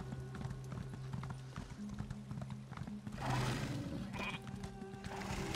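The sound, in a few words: horse mount hooves in the video game Elder Scrolls Online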